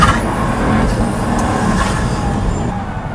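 A Pagani Huayra supercar of about 730 horsepower driven hard, its loud turbocharged engine roaring steadily at close range with a faint whistle of boost above the continuous drone.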